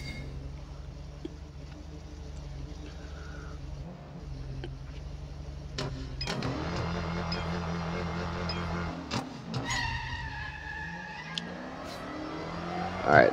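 A race car engine in the NFS No Limits racing game revs and accelerates, rising through gear shifts with a loud, steady whine building toward the end, with a faint voice briefly underneath.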